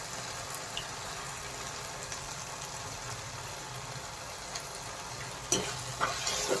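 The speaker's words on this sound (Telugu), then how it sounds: "ఇప్పుడు ఫైనల్ జస్ట్ ఎగ్ని ఇలా కొట్టి వేసుకుంటాం" An egg cracked into a pan of sizzling capsicum curry with tomatoes and cornflour, a steady low frying hiss running throughout, with a few sharper clicks and taps near the end.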